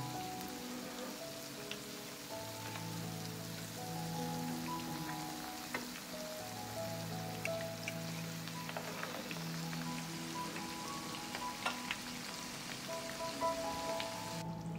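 Potatoes frying in hot oil in a pan give off a constant fine crackle and hiss as they are turned over, with a low hum running underneath and no talking.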